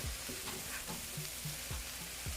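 Jamaican-style corned beef and cabbage being stirred in a pan, heard as a quiet, low hiss with a series of soft, rhythmic knocks and scrapes from the stirring.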